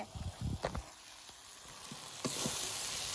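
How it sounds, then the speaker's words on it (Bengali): Taro stems frying in a pan, giving a close, steady sizzle with a few stirring bursts and scrapes near the start and again toward the end. "এদিকে কচু ভাজি করছি"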